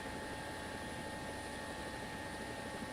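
Steady droning rotor and engine noise of a helicopter in War Thunder, continuous and unchanging, with a thin electronic hum and no voices.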